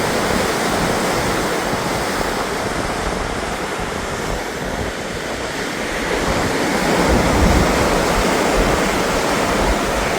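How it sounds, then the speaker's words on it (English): Waves surge and wash along a beach below a lighthouse headland while strong hurricane winds buffet the microphone, a loud, steady roar of surf and wind with no speech. "There's the beach down there."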